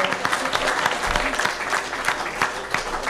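Steady applause from a crowd at a season programme presentation, dense clapping throughout with no pauses, moderately loud and fairly close.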